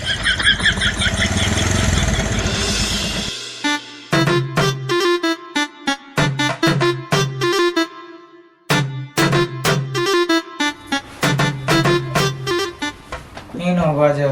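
A motorcycle that won't go: its engine runs roughly for a few seconds and then cuts out, followed by stretches of voices talking nearby.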